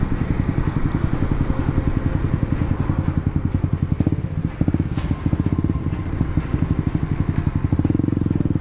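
Motorcycle engines on a road in East Java make a rapid, close, pulsing exhaust putter, with a passing swell midway.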